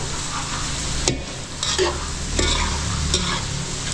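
Food sizzles steadily in a hot pan in a busy restaurant kitchen, with vegetables and celery stir-frying, punctuated by a few scraping stirs and clinks of a utensil against the metal.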